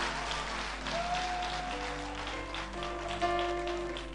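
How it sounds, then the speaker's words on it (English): A church congregation claps along during a sermon, a faint, continuous patter of hands blended with background music tones. "Come on, somebody clap your hands with Jesus."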